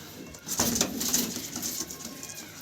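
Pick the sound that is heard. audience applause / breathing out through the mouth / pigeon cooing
pigeon cooing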